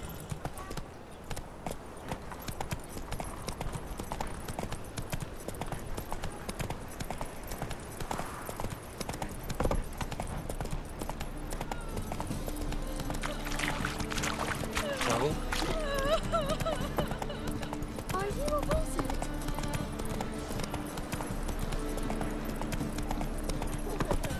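Roach, the horse in the video game The Witcher 3, trots with a steady rhythmic clip-clop of hooves, layered over game music and ambient sound for a long stretch.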